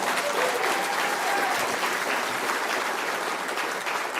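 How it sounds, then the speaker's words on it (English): Crowd applause at a Pierre Poilievre rally in Kelowna, a full, steady roar of clapping from a large audience, sustained evenly for several seconds. "Give her a round of applause"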